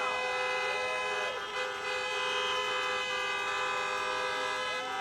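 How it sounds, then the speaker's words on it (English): Many car horns blare together at a Georgia drive-in campaign rally for Senate candidates, merging into a sustained, layered chorus of tones with no break. "And of course, honk for your next United States Senators, Jon Ossoff and Reverend Raphael Warnock."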